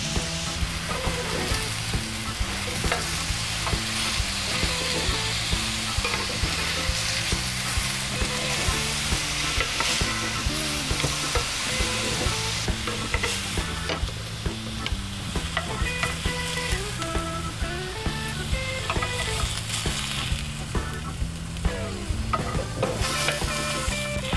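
Pineapple slices searing on a grill, a dense continuous sizzle that holds steady throughout, with music playing underneath and no talk.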